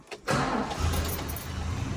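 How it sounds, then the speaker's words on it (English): A 1969 Chrysler VF Valiant's 225 slant six engine cranks briefly and catches, settling into a steady, close idle that runs alone for the rest of the moment. "We give her a start up."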